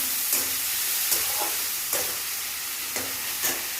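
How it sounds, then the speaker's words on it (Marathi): Finely chopped tomatoes fry with onions in a pan for a South Indian masala dosa filling, giving a loud, steady close sizzle with a few soft stirring scrapes, no voices. "त्यानंतर आपण यामध्ये टाकणार आहोत बारीक चिरलेले टोमॅटो. टोमॅटोही चांगला आपण एकसारखं भाजून घेणार आहोत यामध्ये."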